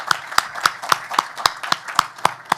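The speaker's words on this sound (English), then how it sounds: "I'd like to give Jeremy a round of applause as well for all of his work" An audience applauds moderator Jeremy Fortier at a talk on civic partisanship, a sparse, evenly spaced run of about ten crisp single claps close by, light and unhurried.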